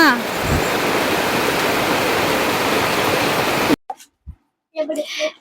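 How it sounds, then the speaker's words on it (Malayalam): Heavy rain roars steadily and loudly for several seconds, then abruptly stops, leaving near silence broken by a few short voice sounds. "ഉറക്കി നീച്ചപ്പോ നല്ല മഴയാണ് പെയ്യണത്"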